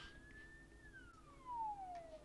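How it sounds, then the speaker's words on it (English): Police car siren wailing on the road in a bad-driving crash scene, a single long tone sliding up then falling, fairly distant and faint under steady traffic noise. "Whoop, whoop, that's the sound of the police."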